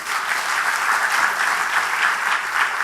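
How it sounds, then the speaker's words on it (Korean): A church congregation at a Sunday evening worship service claps together in dense, steady applause that stays even throughout the short stretch, with no talk over it. "예, 박수를 한번 하셔야죠."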